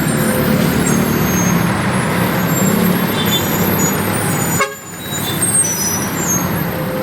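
A big truck rumbles past on a Bulacan road at night, a loud, close, broadband roar that drops briefly to a sharp dip then resumes as traffic continues, with no talk over it.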